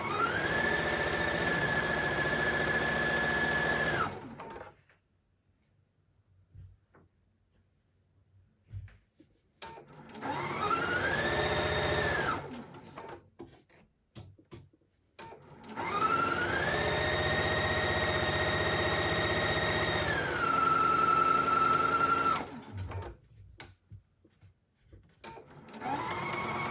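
Sewing machine stitching along the edge of a quilted piece, running in three long steady whirring passes with its motor pitch rising and falling, separated by quiet pauses.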